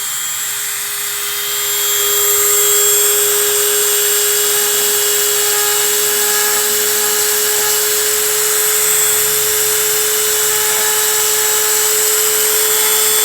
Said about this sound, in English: So we're going to be using a nice little Dremel tip.